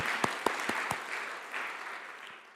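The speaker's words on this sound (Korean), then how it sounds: "하나님께 영광의 박수 올리겠습니다." Congregation at a Sunday church service breaks into applause, a few sharp distinct claps at first merging into a softer spread of clapping that fades away toward the end.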